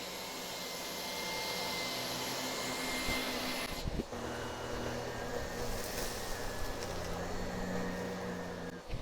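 A Miele vacuum cleaner runs steadily over carpet, a loud continuous whining drone with a brief dip near the middle as it is pushed back and forth in one pass, with no talking.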